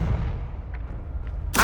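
A fiery Confringo spell blast from the game Hogwarts Legacy bursts out suddenly right at the end, a loud wideband whoosh over a steady low rumble of game ambience.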